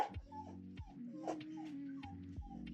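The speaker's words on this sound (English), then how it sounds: "This dog's whining again." A dog whines and whimpers in a run of high, wavering cries with short yips, close by, with no talk over it.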